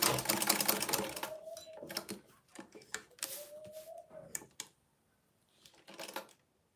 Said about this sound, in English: I'm going to sew with like a quarter of an inch all around it. So first of all, back stitch, continue.